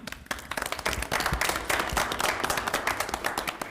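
A burst of applause from a crowd at a Board of Education meeting, dense steady clapping that starts suddenly and continues at an even level throughout.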